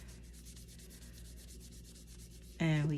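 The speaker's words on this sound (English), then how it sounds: "rub all of that paint off" Steady rhythmic rubbing and scrubbing while paint is stripped off a vinyl reborn doll kit, close and continuous, with a brief spoken phrase near the end.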